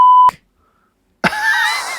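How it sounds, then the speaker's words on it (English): A short, loud censor beep tone cuts off abruptly, followed by a second of silence before voices return on a podcast. "we'll just come back and beep it if we have to"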